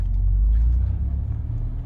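BMW F30 320i pulling away and driving, a close, deep engine rumble with road noise that holds steady throughout.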